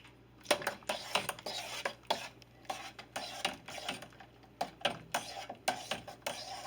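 Utensil stirring a hot homemade ice cream mixture of milk in a metal pan, with repeated scraping and clinking strokes against the pan in an irregular rhythm, close and moderately loud, no talking.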